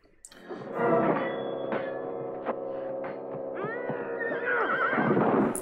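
A horse lets out a long, loud, wavering neigh in the 1985 film Red Sonja, the whinny rising and trembling over a quiet background before breaking into shorter cries.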